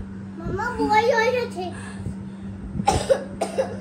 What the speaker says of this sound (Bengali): দেখেছো কাশি হচ্ছে